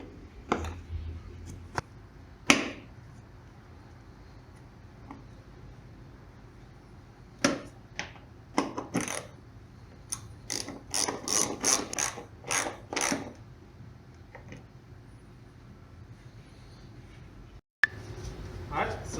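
Screws being driven back into a 2015-2017 Nissan Juke lower bumper valance, with scattered ratcheting clicks and bursts of turning that come closer together midway, faint and close-up with someone speaking occasionally.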